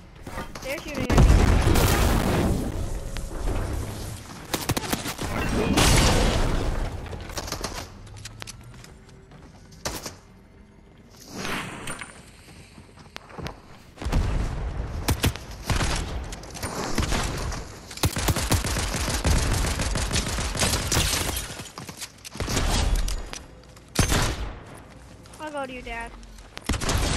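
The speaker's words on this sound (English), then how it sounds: "They're shooting at me." Fortnite gameplay fills with dense bursts of gunfire, rapid automatic volleys and louder single shots that come in waves, with players talking over the shooting throughout.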